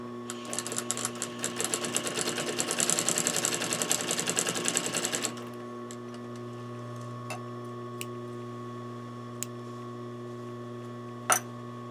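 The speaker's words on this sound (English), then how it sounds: "I'm going to stitch. I usually stitch using a 1/2-inch seam allowance." A sewing machine stitches fabric for a cushion with a fast, even rattling run lasting about five seconds, then stops. Afterward a low steady hum remains, with a few faint clicks and one louder tap near the end.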